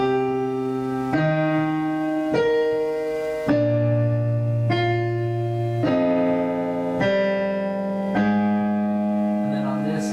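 Piano with both hands together on a tutorial piece, a bass note under each pair of treble notes, in steady chords roughly every second and a quarter, clear and close with no talking.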